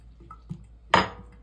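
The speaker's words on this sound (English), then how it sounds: "So you're gonna pour your water in" Water goes into a bowl of batter mix for Jamaican saltfish fritters, with a couple of faint taps and then one short splashing pour up close, alone and without talk.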